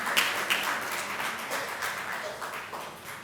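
Audience at a journalism conference applauding, a soft, distant wash of clapping throughout, fairly even and low in level.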